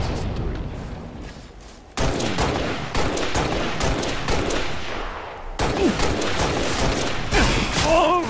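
Automatic gunfire from a Halo Reach multiplayer match, with dense bursts of shots and explosions that get loud and continuous after a quiet opening and keep going to the end.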